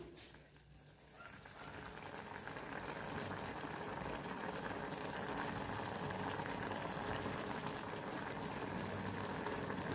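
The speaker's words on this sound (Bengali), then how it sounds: "এটা একটু ফুটে উঠলে আমি বন্ধ করে দেবো, একটু ফুটে উঠুক" Sweet sugar syrup for Bengali nikuti heats in a pot and comes to a boil. A soft, steady bubbling builds slightly and continues, quiet and close with no voices.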